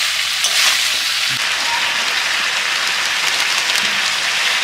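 Chicken sizzling with sauce and vegetables while being sautéed in a pan for Bengali-style chilli chicken, a steady, close, bright frying hiss that runs continuously with faint stirring scrapes.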